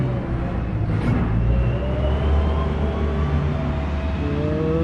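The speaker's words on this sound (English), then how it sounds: "I think that's the garbage truck running through right now." A garbage truck rumbles past outside, a steady low engine drone with a swelling pass-by, fairly loud and continuous.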